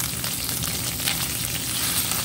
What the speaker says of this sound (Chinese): 稍微炒一下